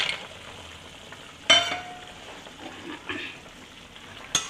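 Lentil dumplings (bori) go into a simmering bitter gourd curry: a soft, steady hiss broken by two sharp clinks near the pan, one early and one at the end, with no talking.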